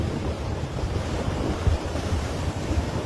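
Sea waves rolling in with steady wind buffeting the microphone, a continuous low roar with soft surges and no voices.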